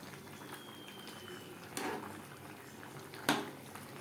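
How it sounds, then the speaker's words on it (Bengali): Jackfruit and shrimp curry gravy bubbling in a pot, a steady soft simmer with a couple of louder spoon or pot scrapes partway through, close and fairly quiet. "গ্রেভি বেশ ভালো করে ফুটতে শুরু করে দিয়েছে।"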